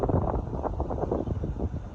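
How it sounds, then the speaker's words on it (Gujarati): Steady wind buffeting the microphone beside a lake behind a temple in a village, a continuous low rumbling gust noise filling the whole stretch without speech. "અત્યારે એટલો મસ્ત પવન આવી રહ્યો છે ને અહીંયા."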